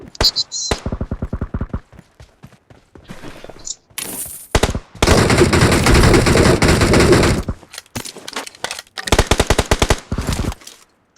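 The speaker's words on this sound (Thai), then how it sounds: "ยิงกันในบ้าน" Gunfire in the mobile battle-royale game PUBG Mobile, with shooting inside a house. It comes as repeated bursts of rapid automatic fire, including one long sustained volley in the middle, broken by short gaps.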